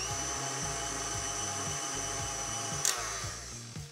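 An electric stand mixer turned up to a higher speed churns gluten-free chocolate chip cookie dough with vanilla, a steady motor whine with a rhythmic low churning thump, continuous and close, with no talking.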